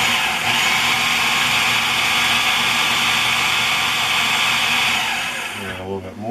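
A food processor pulses pie ingredients for a blueberry pie, a loud, steady whirring roar lasting several seconds before it cuts off and spins down.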